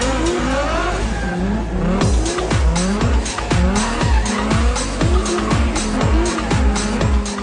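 A supercharged drift car fitted with a Vortech supercharger slides around a track at a drift series event, its tires squealing loudly in repeated long howls over a roaring, revving engine.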